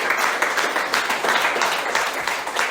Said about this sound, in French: Applaudissons pour glorifier notre Seigneur.